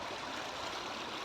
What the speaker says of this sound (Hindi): पानी के बहने की कलकल की आवाज़